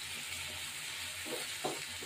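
Onions fry in a pan for biryani, giving a soft, steady sizzling hiss with a couple of brief stirring scrapes near the end, close and fairly quiet.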